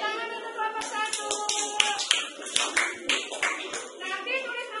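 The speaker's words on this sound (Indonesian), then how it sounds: "tepuk tangan untuk kelompok 1" Scattered clapping in a classroom for a student group comes as sharp, uneven claps and taps from a few people, mixed with lively talking and chatter throughout.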